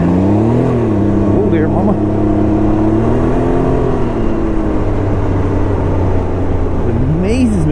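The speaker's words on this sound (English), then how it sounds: "This car is taking a lap." A car takes a lap at speed alongside several other cars, its engine a steady loud drone that swells and dips in pitch, with a brief spoken exclamation over it.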